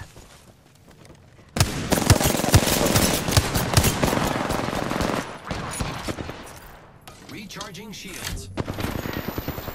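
Dense, rapid gunfire and automatic bursts fill a shooter video game match, continuing loudly for several seconds with short pauses and game voice lines over the shooting.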